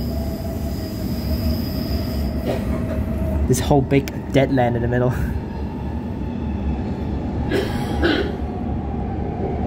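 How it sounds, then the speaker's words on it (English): An airport line train arriving at Bayswater station rumbles steadily with high metallic wheel squeals and screeches; a person speaks over the noise. "Airport line train just arrived."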